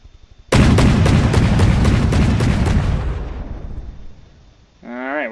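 Heavy weapons fire northward in the From the Depths game: a loud, rapid barrage of booming shots for about three seconds, fading into a rumbling tail, then a brief warbling electronic tone at the end.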